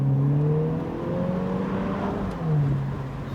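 A Mini Cooper S Convertible engine in sport mode with manual shifting, its steady, droning note holding and gently rising and falling, fairly near and moderately loud, with no talking.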